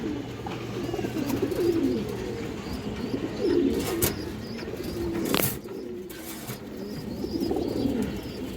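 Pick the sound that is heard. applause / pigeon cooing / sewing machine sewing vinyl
pigeon cooing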